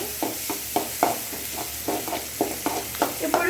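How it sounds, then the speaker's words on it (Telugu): A spoon stirs turmeric through oil sizzling in a pan, scraping in a steady rhythm of about ten strokes over a constant hiss of frying, close up and with no speech. "పసుపు వేసుకొని బాగా కలుపుకోవాలి"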